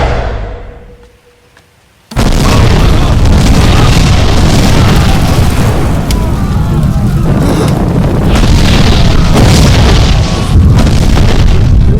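A bomb goes off in a Telugu movie scene: after a near-silent lull, a sudden, very loud blast erupts about two seconds in and rolls into a sustained, roaring rumble that fills the rest of the scene.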